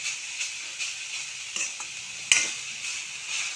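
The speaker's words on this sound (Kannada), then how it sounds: "ಈಗ ನೆಲ್ಲಿಕಾಯಿ ಮತ್ತು ತುಪ್ಪ ಹಾಕಿ ಹುರಿಯಾತೀರಿ" Indian gooseberry (amla) frying in desi cow ghee, with a steady close sizzle and occasional stirring scrapes of a utensil in the pan, no voices.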